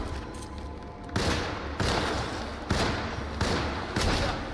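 Shotgun blasts in the 2024 video game Alone in the Dark: four loud, heavy shots at roughly even intervals, each with a booming tail that decays into the next.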